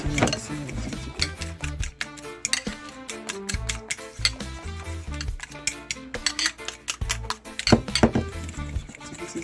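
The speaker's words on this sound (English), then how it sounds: "Continue mixing everything together." Coleslaw sauce with brown sugar is mixed in a bowl, producing repeated close clinks and scrapes of a utensil against the bowl in an uneven stirring rhythm.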